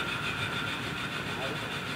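A Hardinge precision toolroom lathe spindle spinning in its high RPM range, giving a steady, even mechanical whir with a bright high-pitched hum, continuous and close throughout with no pauses.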